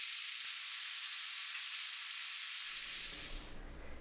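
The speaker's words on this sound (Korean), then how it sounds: "파의 향이 올라오면 오징어를 넣고 볶아요." Squid stir-frying in a pan with scallions, a dense bright sizzle that holds steady, then thins out near the end as lower rumbling rises, close and constant with no talk.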